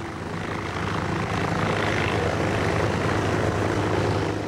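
Early Antoinette monoplane in flight, its engine and propeller giving a steady, continuous drone with a low buzzing hum, heard fairly close and loud throughout with no talk.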